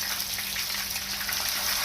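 Spicy peppered turkey wings fry in hot oil with a steady, dense sizzle and crackle, close and continuous, and no voices.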